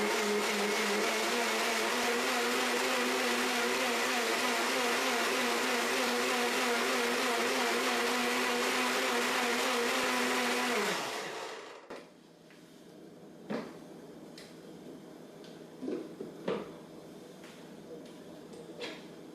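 A blender whirs loudly and steadily for about eleven seconds, blending an oil-free raspberry vinaigrette with garlic, then winds down and stops, leaving faint clinks and small knocks.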